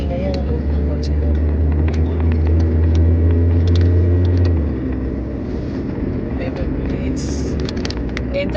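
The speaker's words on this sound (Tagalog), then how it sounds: "Bakit maingay ang loob ng kotse mo?" Low, steady road rumble fills the cabin of a low-riding car while driving, loudest for the first few seconds before easing slightly, with people talking over it throughout.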